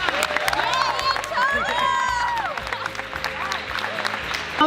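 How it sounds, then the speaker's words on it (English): Crowd at a school spirit day event giving a round of applause, sustained clapping mixed with cheering and children's shouting, steady throughout. "I just want all of you guys to give a huge round of applause"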